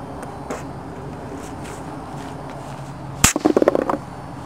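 An Airsoft Innovations Tornado airsoft grenade goes off: one sharp, fairly close bang followed by a brief run of rapid crackling pops that quickly die away.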